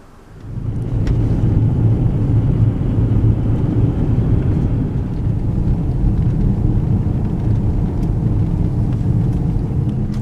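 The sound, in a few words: vehicle driving through a dry desert wash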